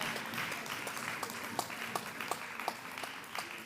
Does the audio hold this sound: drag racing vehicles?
no